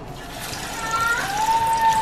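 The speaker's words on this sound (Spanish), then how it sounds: "ya tengo el aceite, porque esto lleva aceite, ya lo tengo caliente y vamos a echar las primeras tajadas" Green plantain slices dropped into hot oil for tajadas, giving a steady, close frying hiss that swells slightly toward the end, with a faint thin whistle-like tone over it.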